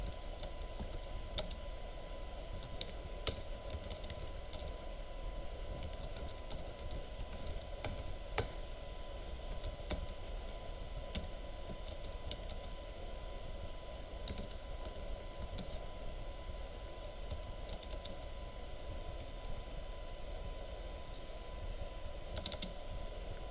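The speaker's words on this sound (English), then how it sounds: "So I'm going to start typing." Steady typing on a computer keyboard in a class setting, continuous key clicks at an even pace with occasional louder strikes over a constant low background hum, no talking.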